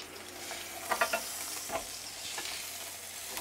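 Steak sizzles on a Ninja Foodi XL indoor grill, a soft steady hiss with a few sharper crackling bursts and a quick cluster of clicks near the one-second mark.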